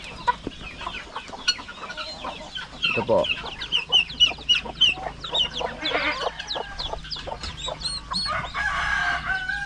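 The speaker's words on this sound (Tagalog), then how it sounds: "Unti-unti na pong dumami yung ating mga alaga ditong manok" Farm chickens cluck busily while a rooster crows, a dense, lively mix of close and distant bird calls with a person speaking briefly among them.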